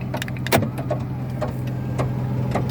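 Several sharp clicks of a 2012-2017 Kia Cerato/Forte's door locks actuating by key fob over the low hum of an idling engine, close by and without speech.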